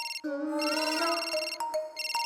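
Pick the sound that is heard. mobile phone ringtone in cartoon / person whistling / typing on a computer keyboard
mobile phone ringtone in cartoon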